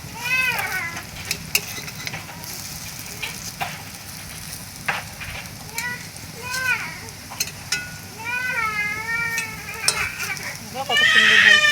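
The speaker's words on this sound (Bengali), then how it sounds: "এখন আমি উল্টিয়ে দিচ্ছি বড়াগুলাকে।" Lentil fritters (bora) sizzle steadily in a frying pan on a low flame as they are flipped, with soft scraping clinks, faint bird-like chirps and a voice talking over the cooking.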